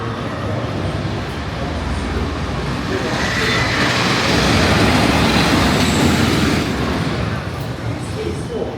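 A roller coaster train rolls along its track at California's Great America amusement park, approaching a covered section, a steady broad rumble that swells in the middle and then eases, with no talk over it.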